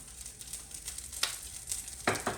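Chorizo sizzles in oil in a pan, a steady soft crackle near the mic with a few louder spits and stirring scrapes toward the end.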